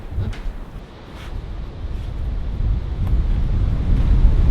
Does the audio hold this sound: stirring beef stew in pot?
no